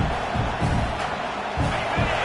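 Dense, steady roar of a football stadium crowd at a college game between Texas A&M and LSU, a continuous wash of distant voices with surging swells and cheering throughout.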